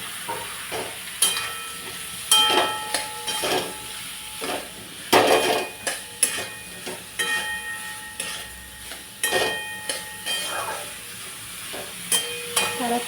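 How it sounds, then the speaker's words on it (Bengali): Spice paste stir-fried with Nutella in a pan, a spatula scraping and clacking against the metal in a steady run of sharp strokes over a low sizzle, close and fairly loud. "এই নিউটেলাটা দেবো নিউটেলাটা দিয়ে আর একটুখানি কষাবো"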